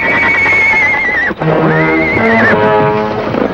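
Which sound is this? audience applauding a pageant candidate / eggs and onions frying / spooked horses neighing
spooked horses neighing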